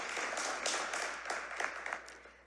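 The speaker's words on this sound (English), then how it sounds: "Just give us a clap for him." Light, sparse clapping from a small audience at a community gala, individual claps audible in an uneven patter that fades out quietly, with a low electrical hum underneath.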